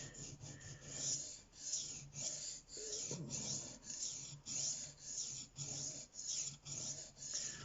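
A kitchen knife rasps over a sharpening stone with the edge lifted slightly to grind out a nick. The close scraping strokes repeat in an even, regular rhythm, with no voices.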